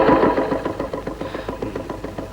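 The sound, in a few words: motorbike engine idling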